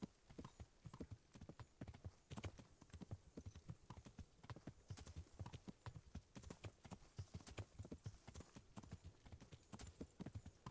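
Horse hooves clip-clop in a steady, brisk rhythm throughout as a horse is ridden in a video game, each footfall crisp and close with no pauses.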